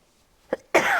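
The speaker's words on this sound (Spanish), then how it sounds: "yo ya estoy tosiendo" A short throaty cough followed right away by a louder, harsher cough, close up and with no other sound around them.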